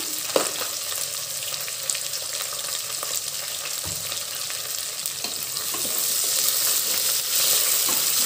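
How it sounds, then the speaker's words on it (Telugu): Onions sizzle and fry steadily in a pan after a pinch of salt goes in, a continuous close hiss that grows slightly louder toward the end, with a few light clinks and no voices. "సాల్ట్ యాడ్ చేసుకుంటే ఆనియన్స్ బాగా డ్రై అవుతాయి"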